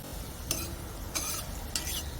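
Bitter gourd sautéing in coconut oil for a Kerala-style pachadi, a steady soft sizzle with three brief scraping stirs spaced evenly through it, close and fairly quiet, with no voices.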